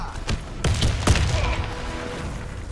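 A grenade explosion in the military shooter Warface lands amid a burst of rapid gunfire, with several sharp thuds and booms close together before the noise settles into a sustained rumble.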